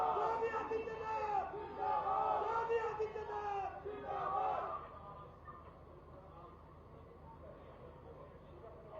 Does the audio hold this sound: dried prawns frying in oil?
no